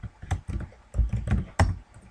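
Computer keyboard keys tapped out in uneven short bursts, close and moderately loud, as names are entered for a Minecraft server's allowed-player list.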